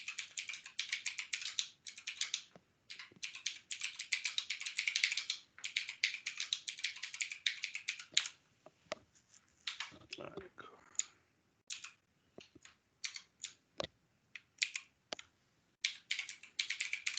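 Computer keyboard typing in fast bursts of crisp clicks and clacks, close and fairly quiet, broken by short pauses and scattered single keystrokes with no voices.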